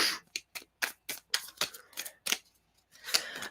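Sheets of paper shuffled by hand, a run of about a dozen quick, crisp rustles and flicks in uneven rhythm, close by and fairly loud with short pauses between them.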